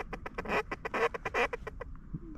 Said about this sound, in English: I think there's a lot of pintails in there. Those are mallards.